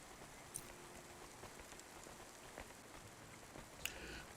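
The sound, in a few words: rain falling in the video game Cloudpunk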